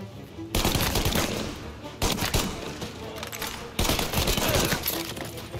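Rapid machine-gun fire in the game Mafia: Definitive Edition rattles in three long, loud bursts separated by brief pauses, dense and continuous.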